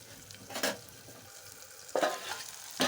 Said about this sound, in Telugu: చూడండి మన కాకరకాయలు అయితే బాగా ఫ్రై అయిపోయినాయి